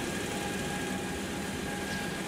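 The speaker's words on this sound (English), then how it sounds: "looks like I've got a good start at the APU, and it is stabilized" The auxiliary power unit of a simulated Boeing 727 in X-Plane 11 runs at a steady, stabilized drone, a constant turbine whine and rumble with faint tonal hums, unbroken and with no talk.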